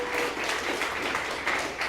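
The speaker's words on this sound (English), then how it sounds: "Let's give these boys a big round of applause" A live audience at a business seminar on sales funnels applauds steadily for two presenters, a dense, even patter of many hands clapping without pause for the whole short stretch.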